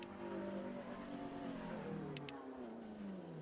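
Race car engines rev and whine in the rFactor 2 sim-racing game, a loud continuous drone with pitch sweeping up and down, two brief high clicks near the end.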